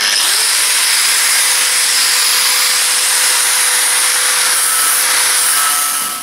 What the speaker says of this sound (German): Ich flex es einfach ab.